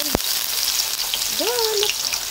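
Garlic frying in a pan for a clam dish, a steady broadband sizzle throughout with a sharp clatter near the start and a brief voiced sound partway through.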